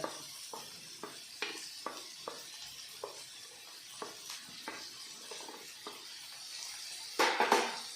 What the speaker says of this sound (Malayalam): ഇതെല്ലാം കൂടെ നമ്മൾ നന്നായിട്ട് എണ്ണയിലിട്ട് വഴറ്റണം